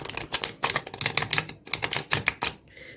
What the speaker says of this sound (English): it's a decent shuffle